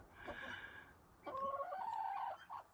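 Hens and guinea fowl in a coop making soft clucking and chattering calls, a few short bursts, quiet and fairly close.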